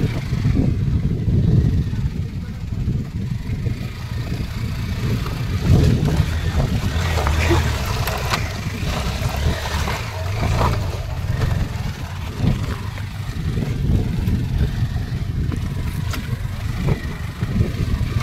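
A motorbike engine labors as it climbs an off-road hill track on the way up Lenyadri hill. The rumble is steady and close, mixed with gusty wind buffeting the microphone throughout.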